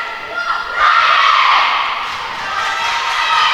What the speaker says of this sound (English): A big crowd building up the noise here.